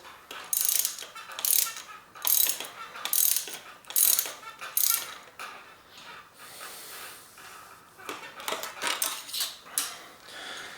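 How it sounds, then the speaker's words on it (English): Socket ratchet tightening a bolt at the bottom of a RockShox Quadra 21R suspension fork, heard as several bursts of rapid clicking separated by short pauses, close and fairly loud. "then just start tightening that bolt"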